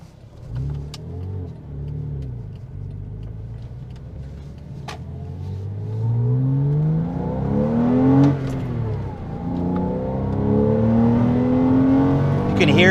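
A Porsche sports car engine revs and accelerates through a U-turn, with rising and falling engine pitch sweeps, close and loud, building strongly toward the end.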